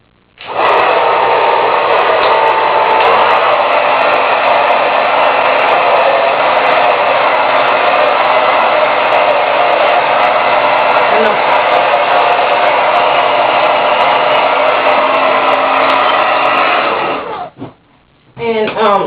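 A hair dryer blows steadily and loudly close by while hair is dried during a wig glue-in styling, a continuous whoosh lasting most of the time before cutting off near the end.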